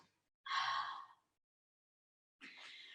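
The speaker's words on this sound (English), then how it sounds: "Audible exhale out through the mouth." Two breathy exhales blown out through the mouth during a Pilates yoga fusion class, the first longer and stronger, the second softer after a pause, close and quiet.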